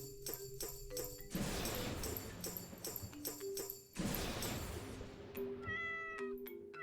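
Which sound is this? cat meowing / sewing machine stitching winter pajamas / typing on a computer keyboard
cat meowing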